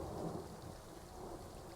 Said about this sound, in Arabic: كما كتسمعوا دابا كاين الرعد والشتا